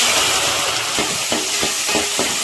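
Brinjal fries in oil with garlic and mustard, giving a loud, close sizzle with a few soft stirring knocks, and no one talking.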